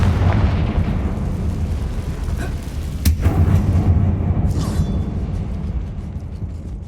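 A Confringo blasting spell in Hogwarts Legacy sets off a sustained, booming rumble with one sharp crack in the middle, followed by a few fainter pops and crackles as the blast dies away.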